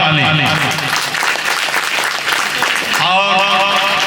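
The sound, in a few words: loud applause from audience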